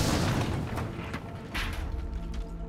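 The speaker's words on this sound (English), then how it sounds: "What's exploding this stuff?" Tanks explode in the video game Mad Max, rolling booms with a heavy low rumble and crackling bursts, several blasts layered close together.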